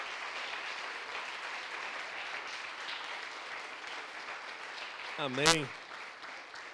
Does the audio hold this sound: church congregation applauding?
yes